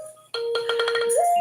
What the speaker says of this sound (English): And I forgot to turn my phone off.